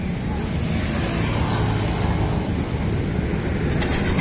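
A car engine fitted with a turbo whistle on its exhaust is revved, producing a loud, steady roar that fills the whole stretch without a break, close up and alone.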